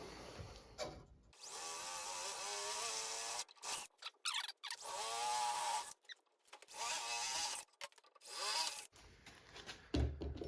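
Several bursts of a power drill boring freehand into a table saw for mounting a router table, whining and grinding for a few seconds each with short pauses between, close up.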